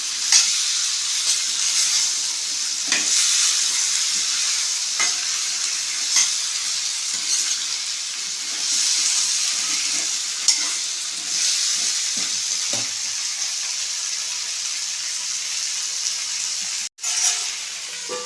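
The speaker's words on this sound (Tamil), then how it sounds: "கத்திரிக்காய் முருங்கைக்காய் நல்லா எண்ணெயில் கரைக்கணும்" Brinjal and drumstick pieces frying in oil for kara kuzhambu, a steady close sizzle and hiss with occasional stirring scrapes, a brief drop near the end, no talk.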